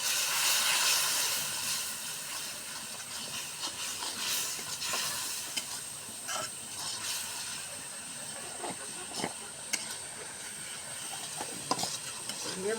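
Spice masala with salt, dried chili powder and coriander powder frying in a pan, a continuous close hiss and sizzle with scattered scraping stirs and light clinks.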